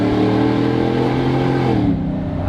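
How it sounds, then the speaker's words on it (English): Ford GT500 V8 engine revving on a downshift, a loud, close, throaty drone whose pitch rises and then drops as the gear changes, with no talking. "you're trying to downshift because you want to hear your throaty V8"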